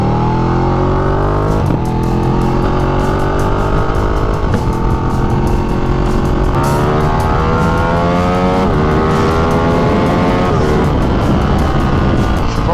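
Ducati Panigale motorcycle being ridden, its engine loud and close throughout, with rising and falling rev pitch as it accelerates through gears.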